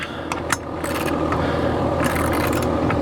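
A steady low mechanical hum from an HVAC unit drones continuously close by, heard from a ladder beside it, with a few faint metallic clicks and scrapes on top.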